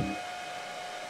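A hair dryer blows steadily on potato strips cut into fry shapes to dry them, a constant close whooshing hum with no voices.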